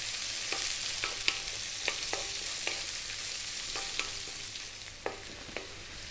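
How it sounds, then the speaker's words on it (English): Onion and garlic fry over high heat in a pan for an Indian vegetarian rice dish, a steady broadband sizzle running throughout with sharp scraping stir clicks scattered at irregular intervals, close and alone without talk. "Then we're going to go onion and garlic. Keep it on a high heat. Keep it moving"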